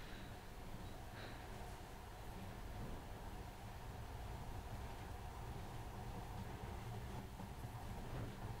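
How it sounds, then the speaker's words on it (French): The monorail train in the video game Metro: Last Light runs along with a steady, dense rumble and hiss, an unbroken low drone with a faint metallic whine that holds evenly throughout and has no voices over it. "Maintenant, ce monorail a l'air magique, pas vrai?"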